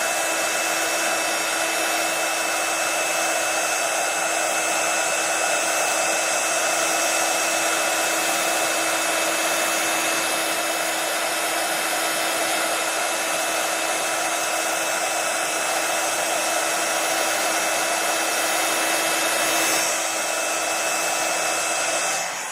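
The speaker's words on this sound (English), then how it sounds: "It turns, and I move my heat tool immediately." A handheld heat tool blasting hot air to melt white embossing powder into a frosted finish on a journal page, a loud, steady, close roar that runs unbroken throughout.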